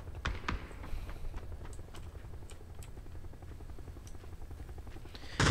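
A helicopter in the PUBG video game hums steadily throughout, a continuous low rotor drone dotted with sharp clicks and small impacts, with no voices over it.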